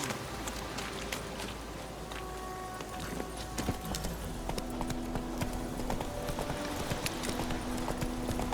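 In The Witcher 3, the horse Roach's hooves clip-clop in a steady walking rhythm, close and continuous, over a game ambience bed with a faint voice in the background.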